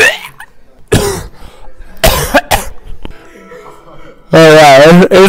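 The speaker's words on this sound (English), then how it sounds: "Let me clear my throat." Several harsh throat-clearing bursts and coughs come close to the mic, separated by pauses, with a loud strained vocal sound at the end.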